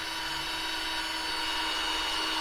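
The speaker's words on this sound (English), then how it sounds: "Scotty got those holes drilled." A power drill whines steadily, boring holes in a homemade bash plate for a Ford Everest, a continuous high-pitched hum at moderate distance with no talking.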